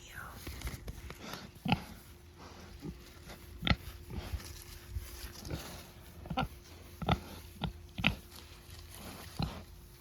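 Pigs on a farm grunting and oinking in repeated short bursts, some fairly loud and close, over a steady background hum with no talk.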